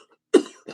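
A single sharp, loud cough from a man hosting a late-night livestream about turkey hunting, followed by a softer trailing breath or second cough, with no talk around it.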